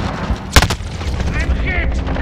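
A flashbang grenade in the video game Call of Duty Modern Warfare, one sharp, loud bang amid gameplay noise, with voices talking around it.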